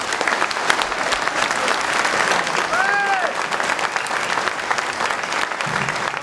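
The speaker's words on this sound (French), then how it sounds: "je voudrais que vous les applaudissiez" A crowd at the 2018 Best Apprentice Butchers of France competition gives sustained, dense applause, loud and even throughout, with faint voices mixed into the clapping.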